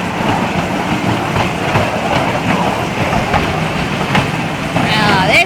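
Downtown Disney ride train rolls along its tracks with a steady rumble and faint rhythmic clatter, up close, while cheerful voices carry on around it.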